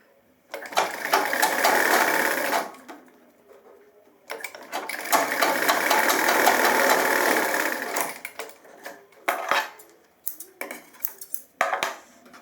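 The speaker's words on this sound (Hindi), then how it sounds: "ये खींच के मैंने थोड़ी सिलाई लगा दी" A sewing machine runs in two long bursts of stitching along a trouser zipper, then gives a few short stop-start runs, close and fairly loud with no talking.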